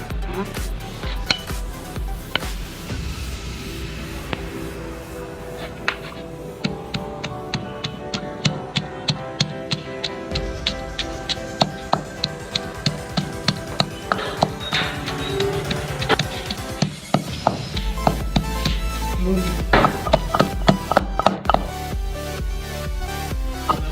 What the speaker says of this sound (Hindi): अब हम प्याज डाल के इसको अच्छे तरीके से कूटेंगे।